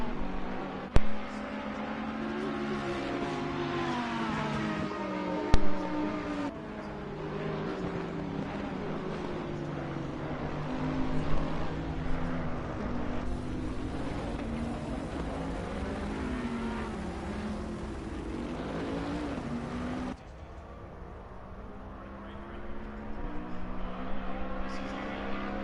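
GT3 race cars, a Lexus, a Ferrari and a Bentley, racing in a video game at Paul Ricard, their engines droning and shifting pitch together in a continuous, moderately loud pack of revving sound.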